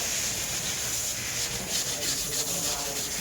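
Steady, close abrasive rubbing of sandpaper on filler on a school bus body under repair, a continuous scratchy hiss with slight rhythmic strokes throughout.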